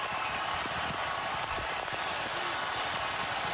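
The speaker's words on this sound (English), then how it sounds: "And the rain getting heavier by the minute." Heavy rain pours down at a college football stadium during a Michigan State at Michigan game, a steady, dense wash of hiss with faint scattered patter and distant crowd murmur underneath.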